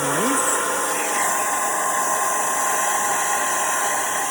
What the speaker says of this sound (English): I'm just going to do a little bit more of a blitz dry, so excuse the noise.